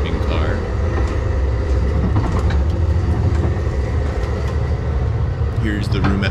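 Amtrak Cardinal passenger train leaving New York in freezing winter weather, a steady low rumble and rattle of the rolling cars from inside, continuous throughout with brief squeals and clatter near the end.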